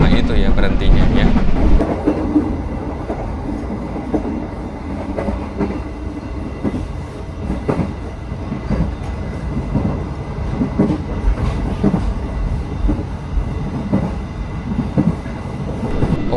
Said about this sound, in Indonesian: Kereta Progo diberangkatkan kembali dari Purwokerto